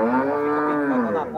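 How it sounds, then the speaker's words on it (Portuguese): A cow lets out one long, deep, close moo at a busy cattle market in Campina Grande, Paraíba, Brazil, the full-throated call holding steady before tapering off at the end. "Hoje muitas vacas por aqui"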